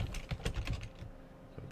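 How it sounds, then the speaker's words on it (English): Quick bursts of typing on a computer keyboard, close and crisp, with several rapid keystrokes that tail off into a few scattered taps. "I'm typing create widget,"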